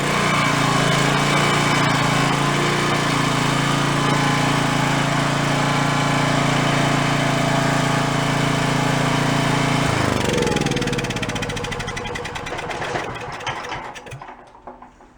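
A Makita gas generator engine runs loud and steady from its electric start with a constant droning hum, then shuts down and winds down into quieter rattles near the end.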